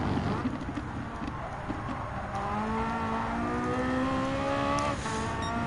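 Porsche 918 Spyder engine in Gran Turismo 7 during a time trial, a steady high-revving drone with rising pitch as the car accelerates, continuous and close, with faint game sounds around it.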